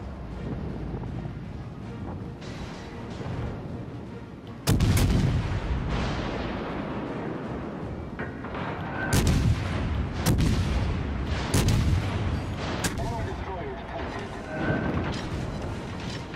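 Warship broadside artillery fire in the naval combat game World of Warships: Legends, with a sudden heavy boom followed by several more loud cannon salvos spaced a second or two apart over a steady rumble of sea and engine.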